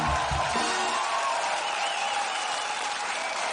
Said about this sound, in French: Vous pouvez les applaudir très très très fort.